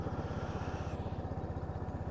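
A Lexmoto Titan motorcycle engine idles steadily after a repair, its even low putter pulsing in a regular rhythm close by, with a brief sharp noise at the very end.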